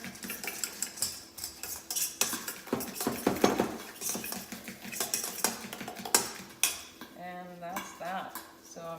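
Banana pancake batter stirred quickly with a utensil in a bowl, giving busy clinks and scraping that stay steady and close, with no talk.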